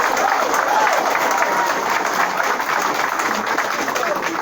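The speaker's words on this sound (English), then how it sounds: "I think we've not given Dr. Issa a loud clap enough." Audience at a press event applauds steadily and loudly throughout, a dense, continuous wash of clapping with crowd murmur and no clear pauses.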